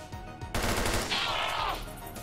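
Rapid burst of UMP submachine gun shots in XCOM 2, a dense loud volley of overlapping gunfire filling most of the moment after a brief quieter lead-in.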